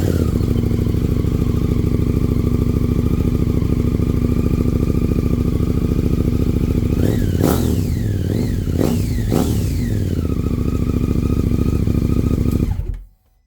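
A motorcycle engine fitted with a new muffler runs at a steady, loud idle, then blips through several sharp throttle revs that rise and fall before the engine cuts off.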